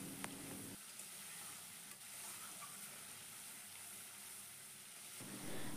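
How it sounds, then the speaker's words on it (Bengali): Spice masala with chilli and red chilli powder fries in a pan for a pointed gourd dish, giving a soft, even sizzle with light stirring that continues steadily with no speech. "এখন মশলাটা কিছুক্ষণ আমি"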